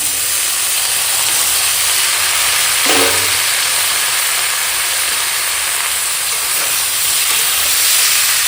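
Steady loud sizzle of flat beans and salted spring onions frying together in a hot pan, a continuous hiss with one brief clatter as something is stirred or added.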